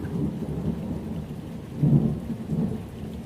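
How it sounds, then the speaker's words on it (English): A thunderstorm over a forest, with steady heavy rain hissing throughout and a deep rolling thunder rumble swelling near the middle, then easing back into the downpour. "the storm is nearly gone"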